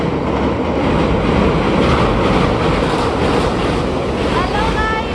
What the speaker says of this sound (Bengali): ওই লাইনে একটা ট্রেন আসছে